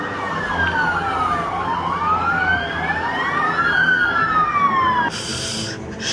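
A police car siren wails loudly and close, its pitch sweeping up and down in long repeated cycles, with a burst of other noise near the end.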